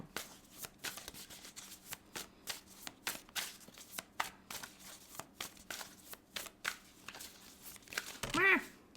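Tarot cards shuffled by hand at close range, a series of quick papery riffles and flicks in an uneven rhythm, ending with a louder crinkling rustle.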